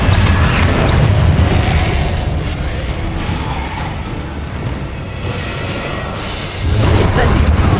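Confringo fire spell blasting in Hogwarts Legacy: a loud, sustained booming roar of explosions with rumbling, crackling texture throughout, swelling again near the end.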